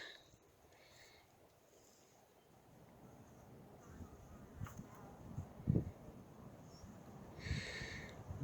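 Honey bees from a hive colony hum in a soft, steady buzz that builds in the second half, with brief nearer buzzing passes.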